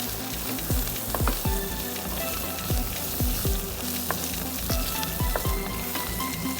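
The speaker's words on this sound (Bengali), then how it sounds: "হালকা একটু আমি সতে করে নিচ্ছি" Mushrooms lightly sautéing in a pan for cream of mushroom soup, a steady sizzle broken by repeated close scrapes and knocks of a spoon stirring against the metal.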